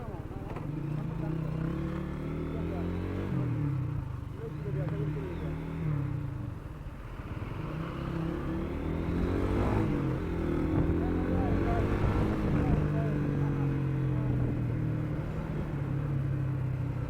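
Cars and motorcycles in a traffic jam on a toll road give a steady low engine rumble and idling drone throughout, with someone talking over it.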